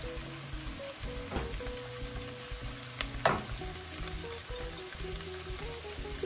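Garlic fries in a hot pan with a continuous bright sizzle and a couple of clattering stirs, no voices.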